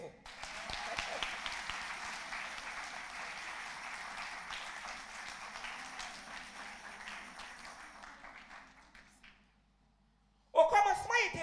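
An audience at a prayer and fasting gathering applauds steadily for several seconds, the clapping gradually thinning out and fading before a voice begins speaking.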